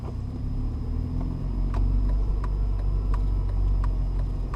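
A car's engine in a parking lot during rev-match downshifts, a steady low rumble with slight swells as the throttle is blipped, close and continuous with faint periodic clicks.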